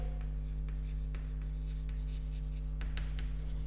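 A pen writing on paper during an accountancy class, with short scratchy strokes and small taps close up over a steady electrical hum and no talking.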